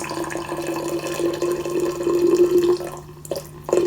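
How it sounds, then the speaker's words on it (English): Water pours steadily over a mint tea bag in a cup, a continuous close splashing stream that swells slightly before cutting off near the end, with a couple of brief trickles after. "I'm just gonna put tea bag first and then water."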